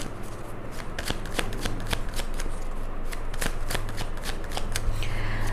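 A deck of tarot cards is riffled and shuffled up close. A steady run of crisp, rapid flutters and snaps continues throughout, loud and clear, with no talking.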